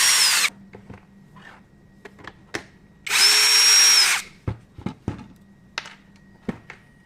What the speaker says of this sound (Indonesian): ada 1, 2, 3, 4, 5, 6, 7, 8, 9 buah baut yang harus kita lepaskan ya, dengan obeng